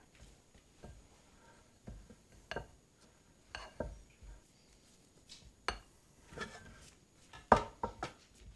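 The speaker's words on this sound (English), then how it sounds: "we're going to add 1 egg and 1 egg yolk, and then we will just mix this to combine" Ricotta gnocchi dough with an egg and an extra yolk mixed in a bowl, a series of soft, irregular taps and scrapes of a utensil against the bowl, close and fairly quiet.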